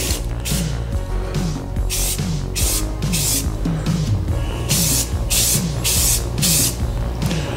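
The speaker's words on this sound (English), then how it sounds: "Test spray." Repeated short hissing bursts of an aerosol spray paint can, about a dozen quick sprays in a steady rhythm, close by with a faint rattling between.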